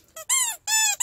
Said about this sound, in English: I guess it's a squeaky toy.